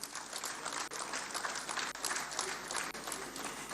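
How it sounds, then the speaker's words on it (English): An audience at a public lecture honouring General Yakubu Gowon at 90 gives a sustained round of applause for the celebrant, a broad, even wash of many hands clapping in a hall. "Let's give another round of applause to our celebrant,"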